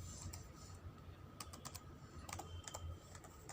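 Someone types on a computer keyboard while entering a word in WordPad, a quick run of light clicky keystrokes in small irregular bursts, close by and fairly quiet, with no speech.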